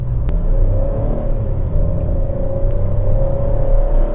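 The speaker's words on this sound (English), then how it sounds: "I'll take the car to 60 kilometers per hour." An MG Astor accelerates toward 60 km/h, heard from inside the cabin as a steady, loud engine and road drone whose pitch creeps upward, with no voices.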